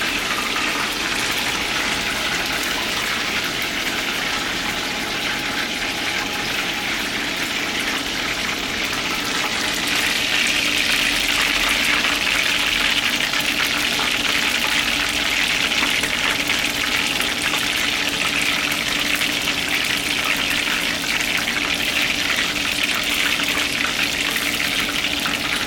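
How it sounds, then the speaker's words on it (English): Squid tempura frying in hot oil gives a steady, dense, loud sizzle that runs without a break and swells slightly midway, with no talk. "shake it a little bit when you drop it in the oil so it doesn't stick together"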